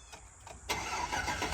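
A car engine with a new exhaust cranks briefly, then catches and fires up into a rough, throaty idle, heard at a moderate distance with no talking.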